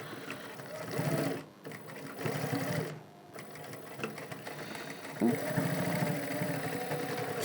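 A sewing machine stitching a nonwoven fabric bag, running in steady bursts with short pauses between seams, fairly quiet and close.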